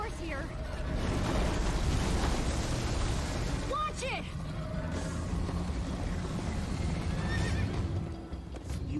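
A horse whinnies and its hooves clatter in a galloping chase from the Minecraft Story Mode game, with dense, loud action sound running nearly continuously through the scene and a sharp neigh partway in.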